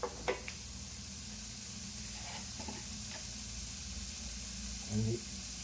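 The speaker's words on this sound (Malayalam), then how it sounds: "നന്നായിട്ടൊന്ന് വഴറ്റി കൊടുക്കട്ടെ" Tomatoes with coriander and turmeric powder sauté in a pan with a steady, fairly faint sizzling hiss, marked by a few soft stirring clinks and scrapes.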